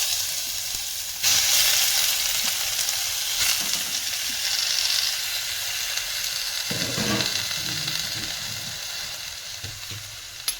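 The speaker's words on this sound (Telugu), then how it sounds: "మంచిగా ఫ్రై చేసుకోవాలి దీన్ని అయితే." Grated bottle gourd fries over a low flame in a pan, giving a steady close sizzle and hiss broken by occasional stirring scrapes, with no talking.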